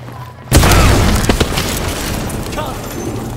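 A sudden loud boom from an explosion in Call of Duty: Advanced Warfare, with a heavy blast onset followed by rumbling debris and scattered crackles, with game voices under it.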